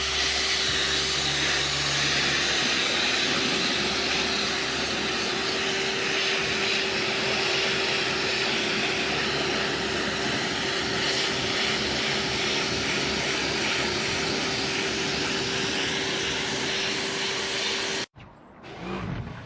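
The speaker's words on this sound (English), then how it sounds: "we'll start a little power wash on the inside" A loud, steady high-pressure spray hisses continuously for most of the stretch as a pressure washer cleans a boat interior, then cuts off abruptly near the end.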